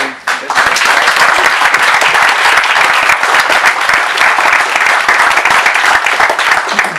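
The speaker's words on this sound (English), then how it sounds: "let's give a warm round of applause for Wayne" A startup community audience in Gibraltar breaks into loud, close applause for a presenter, many hands clapping densely and continuously after a brief pause at the start.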